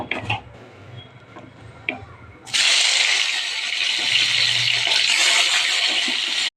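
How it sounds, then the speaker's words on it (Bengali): Chopped onion, capsicum, chili and garlic hit hot oil for a breakfast chowmein, setting off a sudden loud, steady sizzle that holds for about four seconds after a few quieter kitchen clatters. "এগুলো আমি তেলে আগে ভেজে নেব। তো দিয়ে দিলাম তেলের মধ্যে।"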